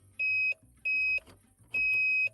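Three repeated electronic beeps from the hazard warning indicator of a VAZ 2110 car, steady tone with even pauses, under a low engine hum and faint background rustle.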